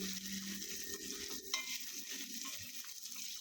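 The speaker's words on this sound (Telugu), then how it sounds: "వేసి ఒక 5 మినిట్స్ వేపుకోవాలి" Fresh raw coconut dry roasting in a pan for a lentil podi, giving a steady close sizzle with stirring scrapes and one sharper clink midway, no voices.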